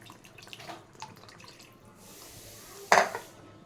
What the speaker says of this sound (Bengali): এই বাটি ধোয়া জলটা এর মধ্যে দিয়ে দিলাম।